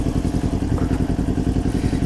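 A Kawasaki Ninja 400 (2021) engine runs with a steady, rapid low throb, started in first gear with the clutch held, close and loud with no talk.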